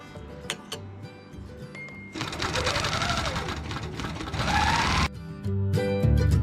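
Grace Company quilting machine stitching at a quilt festival: a fast mechanical whirring run starts after a couple of seconds and continues for about three seconds, surrounded by sparse clicks, a brief pause, then a shorter burst.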